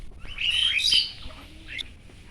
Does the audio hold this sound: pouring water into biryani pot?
no